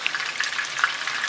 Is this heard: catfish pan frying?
yes